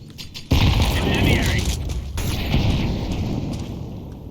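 A grenade detonates in Counter-Strike 2 with a sudden loud, close boom, followed by several seconds of heavy rumbling decay that stays loud to the end; voices may be faintly present beneath it.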